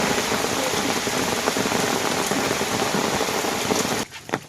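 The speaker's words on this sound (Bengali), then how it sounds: "কি গো, আবার তো জোরে বৃষ্টি আসলো।" Heavy rain pours down in a Sundarban village, a dense, loud, continuous hiss that stops abruptly near the end, leaving only faint scattered drips.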